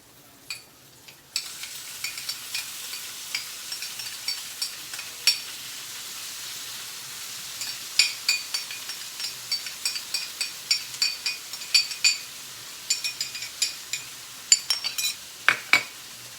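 Corned beef fries in a pan with a soft, steady sizzle, punctuated by frequent sharp clinks and scrapes of a utensil stirring against the pan.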